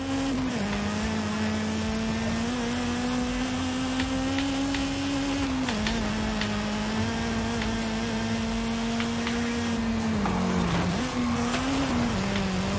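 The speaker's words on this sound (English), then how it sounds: "Come on, VTEC, kick in." Car engine in Forza Horizon 5 revving hard under acceleration, a loud continuous droning tone that dips between gear changes, with faint tire squeal.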